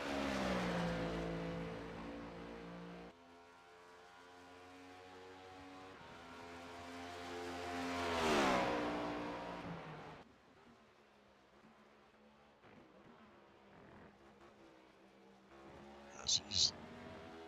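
NASCAR Next Gen race car in iRacing at Watkins Glen, its engine droning in harmonic tones that swell to a loud peak as it revs, drop away, then rise again faintly as the car runs through the corners.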